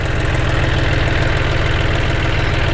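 A John Deere 5039D tractor's diesel engine runs at idle, a loud, close, steady low chugging with rapid regular pulses and no voices.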